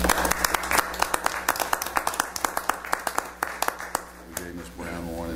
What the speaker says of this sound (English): Brooke Holland deserves an applause too.